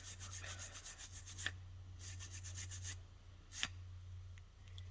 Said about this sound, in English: Wire brush is the next best thing.